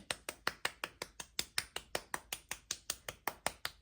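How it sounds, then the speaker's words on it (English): Steady, evenly spaced claps of wet hands, around five per second, crisp and close with a slight splattery edge, no talking. "just clapping the rest off"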